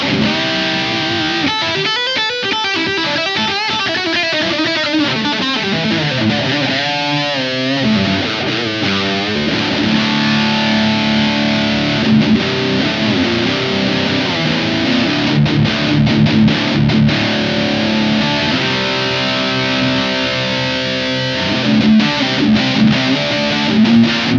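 An electric guitar played through a Blackstar Dept 10 Dual Distortion pedal rings out in thick, saturated chords and fast lead runs, loud and continuous for the whole stretch with no talking.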